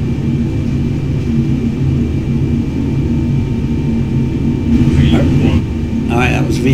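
Boeing 747 engines during the takeoff roll, a loud, steady low rumble filling the cockpit from start to finish, with brief bits of speech toward the end.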